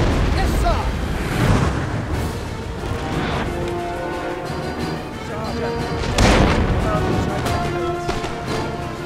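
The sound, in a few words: howitzer artillery fire in Napoleon Total War video game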